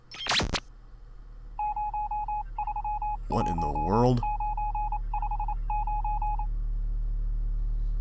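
Touch-tone phone beeps in a Nancy Drew mystery game, a rapid rhythmic series of short dialing tones over a low hum, with a spoken exclamation and a brief electronic sweep in the middle.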